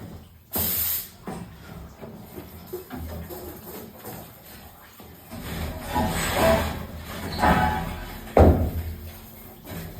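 Water sprayed to rinse out a car manifold part, bursts of hissing spray that rise and fall over several seconds, close by, with clanks and handling knocks in between.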